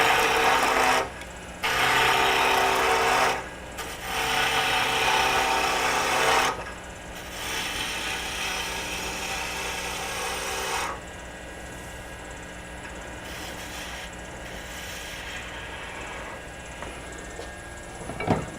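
A wood lathe spins a spindle blank at about 1800 RPM while a bowl gouge cuts it, giving a loud, steady broadband rasp that comes in several long bursts with brief pauses and fades to a quieter hum near the end.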